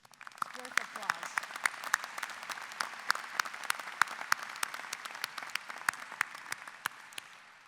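Steady applause from an audience, many hands clapping at once in a dense, even patter that continues throughout with a few voices mixed in.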